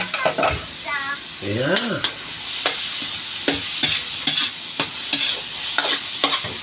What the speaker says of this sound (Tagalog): Para lang ginigisa natin yan.